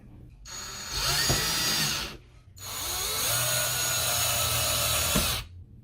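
Power drill driving two screws to mount a Google Nest Thermostat base on a wall, two sustained whirring runs with rising pitch and a short pause between them, loud and close.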